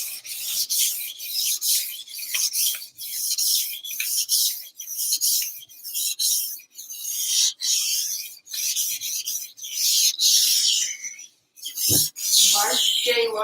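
A knife blade rasps repeatedly across a sharpening stone in steady back-and-forth strokes, bright and close, with short pauses between passes.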